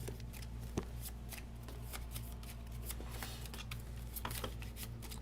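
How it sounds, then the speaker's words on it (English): Riffle shuffling of a deck of Arkham Horror LCG game cards at a tabletop session, with quick crisp bursts of card flutter and soft taps repeating over a steady low room hum, close and moderately quiet. "We'll get a good shuffle going."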